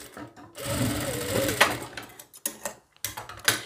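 Electric sewing machine stitching blouse fabric, a close, loud rapid whirring run of about a second and a half followed by short stop-start bursts of stitching.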